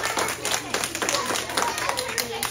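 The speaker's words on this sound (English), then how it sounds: "Everybody give a big round of applause for coming up." Scattered clapping from a small audience for a volunteer returning to their seat during a children's animal show, close and uneven over background chatter.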